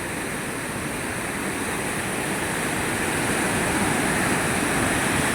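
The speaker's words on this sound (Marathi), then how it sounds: "इकडला नजारा बघा किती फास्ट पाणी पडतंय" The monsoon-flooded Godavari River rushes hard and fast, a dense, loud, unbroken roar of churning water that stays steady throughout, with no voices over it.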